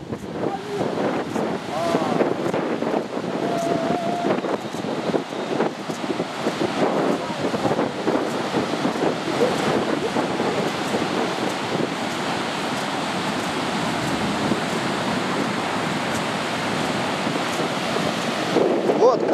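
Stormy Atlantic surf on a Cuban shore, with a continuous roar of breaking waves and gusting wind buffeting the microphone, loud and close and unbroken for the whole stretch.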